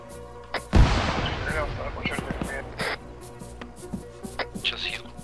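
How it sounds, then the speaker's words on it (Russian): A loud gunshot in ArmA 3 booms out early, then scattered sharper shots and thuds follow while voices talk underneath. "Одиночный мой выстрел был."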